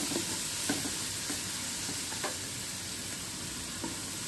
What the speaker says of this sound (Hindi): गार्लिक जिंजर हमारा फ्राई हो चुका है